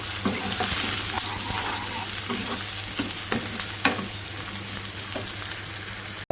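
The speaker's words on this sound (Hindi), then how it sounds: "पहले हम डालेंगे प्याज। प्याज को हम लाइट ब्राउन करेंगे" Onions frying and sizzling in a karahi pan for chicken karahi, a steady close hiss with occasional stirring scrapes and clicks throughout, no talking.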